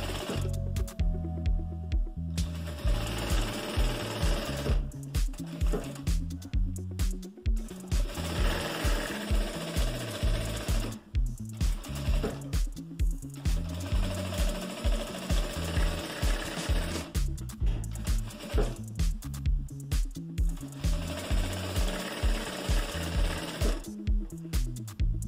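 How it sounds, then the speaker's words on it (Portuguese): A sewing machine stitches a patchwork square along an ironed crease in quick rhythmic bursts, pausing briefly between runs, close and steady with no talking. "vamos estar fazendo a costura aqui no vinco que a gente fez a ferro"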